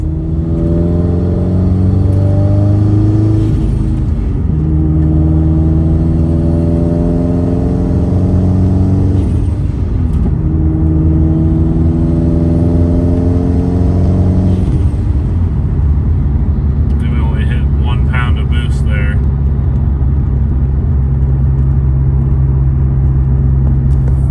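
A tuned car engine built to rev out to 8,000 RPM, recorded close and loud, climbing through repeated rising rev sweeps with brief dips between them, then settling into a steady high drone.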